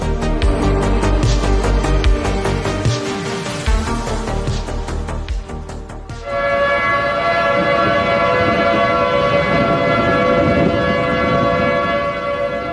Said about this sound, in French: C'est le son d'une sirène, plus précisément celle d'un Federal Signal Modulator